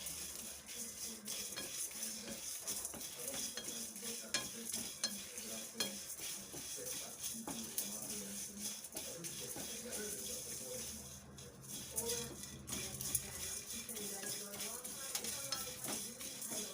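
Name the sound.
stirring and dry roasting coriander seeds in a pan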